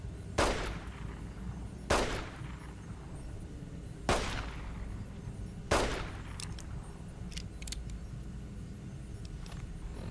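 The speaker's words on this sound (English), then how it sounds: "It's a turret." Four evenly spaced turret shots, each a sharp crack with a short decaying tail, in the Dead Money add-on of the video game Fallout: New Vegas, followed by a few fainter clicks over a low ambient hum, with no talking.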